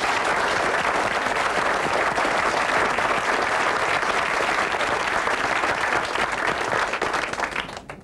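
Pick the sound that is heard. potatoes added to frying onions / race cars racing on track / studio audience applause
studio audience applause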